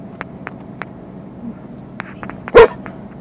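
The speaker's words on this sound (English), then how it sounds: "She only barked once." A dog indoors gives a few short, sharp yips spaced apart, followed by one louder, fuller bark near the end, over a quiet room background.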